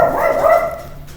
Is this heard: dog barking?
yes